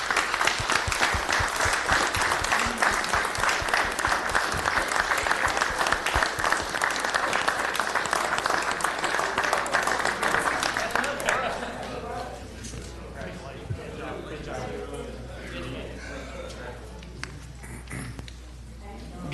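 Sustained audience applause at a city commission meeting in Rome, Georgia, dense clapping for about eleven seconds before fading into scattered claps and room murmur.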